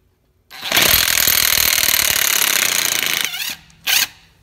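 A Milwaukee 1/2-inch impact wrench running on a nearly dead battery hammers loudly and steadily for about three seconds, then slows and stops, followed by one short final burst.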